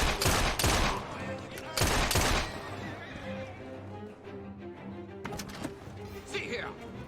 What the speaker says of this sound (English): Let's just shoot these guys.